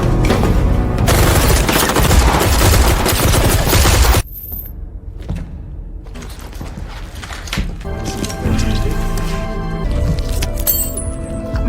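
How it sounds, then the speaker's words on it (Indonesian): Film gunfire from enemy soldiers surrounding a group, with dense rapid bursts of bullets that stop abruptly, then scattered shots and clattering mechanical sounds with a music-like tonal layer. "prajurit-prajurit musuh sudah mengepung dan langsung memberondong mereka dengan peluru"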